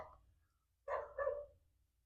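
A dog gives two quick barks close together, fairly near, with quiet between and no talking.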